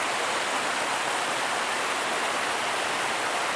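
A stream of flowing water rushes steadily outdoors, a dense, even broadband wash with no pauses, close and fairly loud throughout.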